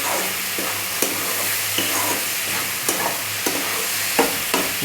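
Tomato and onion with salt are stirred in a pan, a loud continuous sizzle broken by regular scraping strokes of a spoon against the pan, close up and with no talking.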